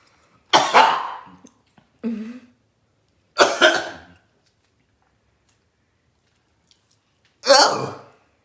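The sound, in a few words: coughing after eating Carolina reaper hot sauce wings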